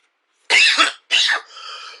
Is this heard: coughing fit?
yes